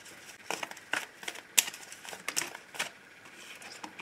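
Oracle cards being shuffled and drawn by hand, heard as a quiet series of papery flicks, slides and crisp snaps at irregular intervals against near silence.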